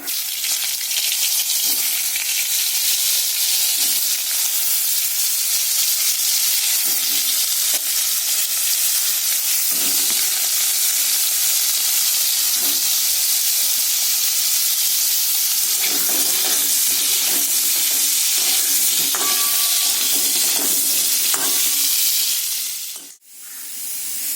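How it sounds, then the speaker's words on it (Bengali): Potatoes fry in a couple of spoonfuls of oil in a pan, giving a steady, close sizzle with occasional stirring scrapes throughout, without any talking. "এবার আলুগুলোকে ভেজে নেব আলুগুলো একটু লাল লাল করেই ভাজবো"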